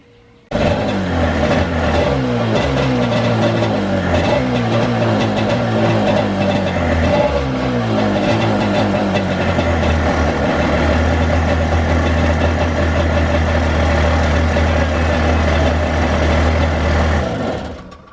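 A Kawasaki SC sport cruiser engine starts up loud, revving in rising and falling waves before settling into a steady, droning idle that runs for over ten seconds, close by with no talking.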